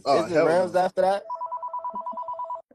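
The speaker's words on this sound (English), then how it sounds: "What phone is that, man?" A phone ringtone chimes in a quick, even pulsing pattern, a bright repeated electronic ring heard right after someone speaks, loud and close during a live stream.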